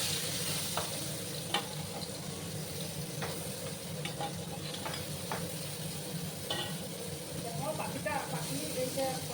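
Small chapila fish frying in hot oil, a dense continuous sizzle and hiss with occasional pops and the scrape of a turning utensil, while a person talks over it.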